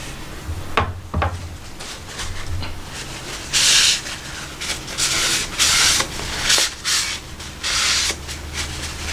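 A recurve knife drawn across a convex 320 grit sharpening stone makes rhythmic abrasive scraping strokes, close and fairly loud, with several bright gritty swipes at an uneven pace and no talk.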